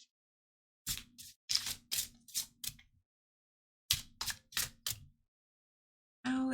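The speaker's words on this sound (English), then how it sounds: "Give the deck a shuffle." A deck of tarot cards is shuffled in quick crisp bursts of riffling, two clusters of sharp card slaps separated by pauses, close and clear with no talking.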